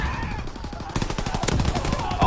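Rapid automatic gunfire from a teammate in Call of Duty rattles steadily for about two seconds, loud and close, growing denser partway through, with no speech over it.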